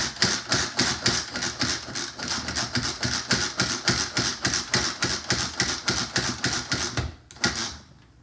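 A manual food processor chops onion with a rapid run of sharp, rhythmic clacks from the pulled handle, close and loud, ending in a brief pause and a final thump.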